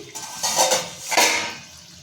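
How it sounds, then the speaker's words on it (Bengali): A metal lid lifts off a cooking pot of chicken curry, giving two short clanking clatters close by with a quieter scrape between them. "ঢাকা খুলছি।"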